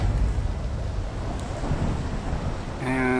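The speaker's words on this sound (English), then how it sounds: "I really like the raining weather" Steady rain and rumbling thunder in the PUBG battle royale game fill the clip as a loud, continuous wash of noise, with a faint tonal game sound entering near the end.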